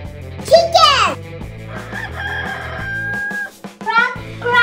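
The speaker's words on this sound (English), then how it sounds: "Chicken!" A rooster crows once, loud and close, in a rising and falling call, while someone speaks nearby before and after it.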